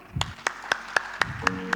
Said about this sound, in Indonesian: Tepuk tangan dulu buat itu.